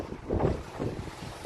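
Wind buffets an outdoor microphone in uneven low gusts, a rough rumbling rush at moderate loudness with no voices over it.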